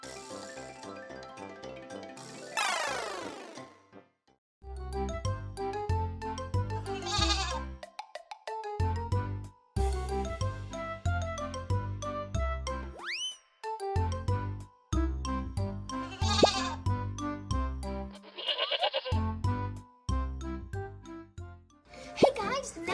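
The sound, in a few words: goats bleating on a farm in Brazil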